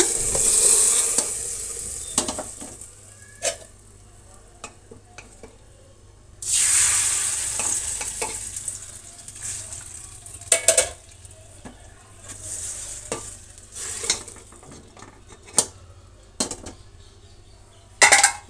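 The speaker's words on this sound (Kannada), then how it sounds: "ಒಗ್ಗರಣೆ ಹಾಕಿದಾಗ ಸಿಡಿಯುತ್ತೆ" Tempering of hot oil and spices poured into a simmering fish sambar, giving bursts of sizzling and crackling with quieter stretches between, close up and with no talk.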